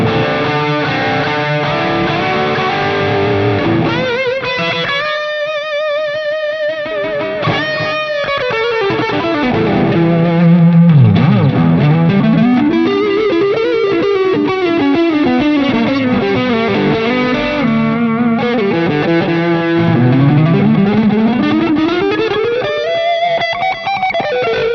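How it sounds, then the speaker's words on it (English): An electric guitar runs through a Line 6 Helix LT distortion patch, giving a loud, saturated, sustained tone with bending, sliding notes and thick chorus-like effects that play continuously with no talking. "And distortion, so if you want to just get some cranking tones too."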